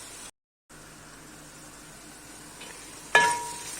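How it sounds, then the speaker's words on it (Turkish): A steady, soft sizzle of onions frying in a pan runs throughout, briefly cutting out near the start, then a sharper clatter toward the end. "soğanım kavruluyor"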